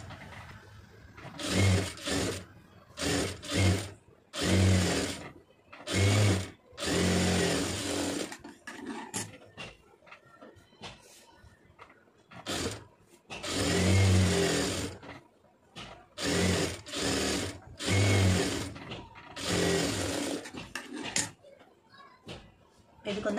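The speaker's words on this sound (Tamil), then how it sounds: "இப்போ இதை சுற்றி ஓட்டிட்டு இடுப்பு தையல் போட்டுக்குவோம்." A sewing machine runs in repeated bursts of stitching as a blouse waist seam is sewn, loud and close, with short pauses between runs and someone speaking in between.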